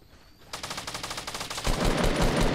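Rapid automatic gunfire from the video game Fortnite during a tournament final, a fast rattling burst of shots that grows heavier and denser partway through, loud and close with no talk over it.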